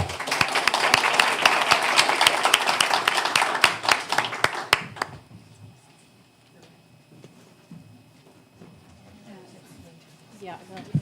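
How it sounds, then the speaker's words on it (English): A round of applause at a city board of aldermen meeting, sustained clapping for about five seconds that stops abruptly, followed by quieter room sounds and talking. "let's give another round of applause"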